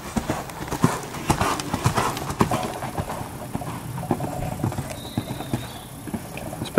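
A horse at a slower trot at a jumping yard beats out steady, close clip-clop hoofbeats in an even rhythm, with a brief whinny-like tone in the background and occasional faint voices.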